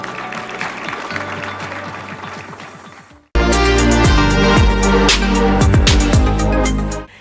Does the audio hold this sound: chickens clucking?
no